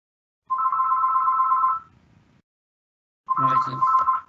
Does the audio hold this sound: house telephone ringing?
yes